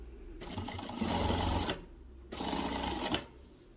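Sewing machine stitching the hem of a dish towel, two loud bursts of motor whirring and needle clatter separated by a short pause, close and alone.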